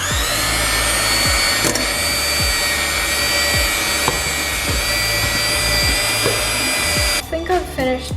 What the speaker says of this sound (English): I'm ready to whisk this up